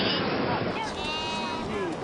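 Sheep bleat in the high mountains near Chashkin Sar, a few wavering calls heard at moderate distance over an open, windy background.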